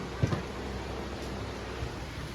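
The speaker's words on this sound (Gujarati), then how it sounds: "વરસાદ આવે છે" Steady rain hisses as a continuous wash of noise, with a couple of brief low thumps near the start.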